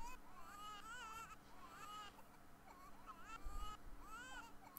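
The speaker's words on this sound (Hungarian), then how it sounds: "Nagyon rossz hallgatni, ahogy egyszerre visít kettő." Simulated infants crying in The Sims 4, two babies wailing in bursts of rising and falling cries with short gaps, fairly loud over a soft game background.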